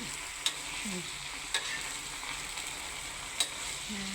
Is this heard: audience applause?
no